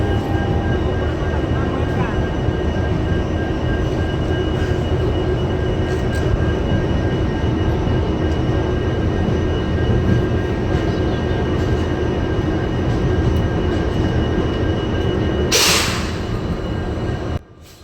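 Loud, steady rumble and clatter of a moving passenger train heard from a rear coach, continuous throughout, with a brief sharp burst near the end before it drops away.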